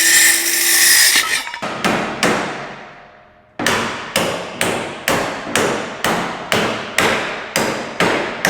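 A wedge is hammered in between the rails of a garage crane: a steady run of sharp, ringing hammer blows, over a dozen in all, each fading quickly, after a brief pause in the striking.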